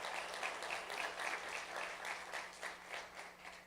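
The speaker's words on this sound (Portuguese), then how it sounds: "Salva de palmas, pessoal," A church congregation claps together in a faint, distant burst with a loose steady pulse, the applause soft and continuous for a few seconds.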